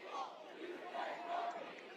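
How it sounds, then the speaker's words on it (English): A large crowd of protesters shouting and cheering together at a street demonstration, a dense, steady roar of many voices at middle distance with swelling peaks. "We got us a whole big old crowd of people."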